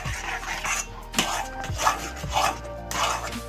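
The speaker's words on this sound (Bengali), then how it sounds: "এভাবেই নাড়তে নাড়তে আমি জলটা শুকিয়ে নেব।" Semolina and coconut sweet mixture stirred in a pan with added water, giving soft repeated scraping and rubbing strokes with occasional light clinks of the utensil against the pan, close and unhurried, no speech.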